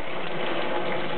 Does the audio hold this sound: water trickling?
yes